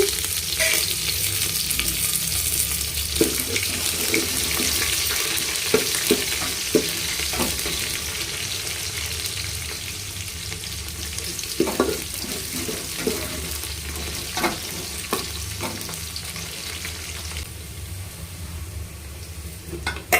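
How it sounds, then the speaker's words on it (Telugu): Onions and curry leaves fry in hot oil in a pan, a steady close sizzle running throughout with repeated scraping clatters of a stirring spoon against the metal. "ఇంకొక పక్క పాత్ర పెట్టి ఆయిల్ వేసి సాసులు బాగా చిట్లాక ఎర్రగడ్డ, కరివేపాకు వేసి బాగా మెత్తబడేంత వరకు వేయించుకోవాలి"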